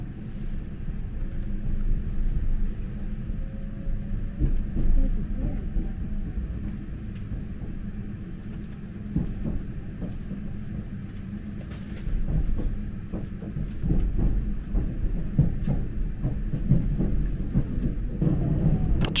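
A local conventional-line train running from Toyohashi along Lake Hamana rumbles steadily from the inside, with repeated clickety-clack rail joints and occasional sharper knocks over about twenty seconds, and no talk.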